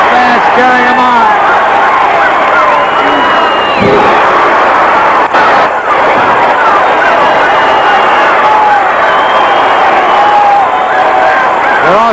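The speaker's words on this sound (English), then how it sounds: "And the fans cheering him on." A crowd of fans at a 1977 professional wrestling match cheers and shouts in a continuous loud roar, with a commentator talking over it.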